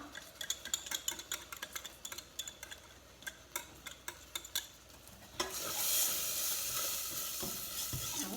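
Rice stirred and toasted in a pot with meat, flour and butter: a run of sharp, evenly paced scraping taps from the spoon, then a steady, louder sizzle that takes over and fills the rest, with no voices.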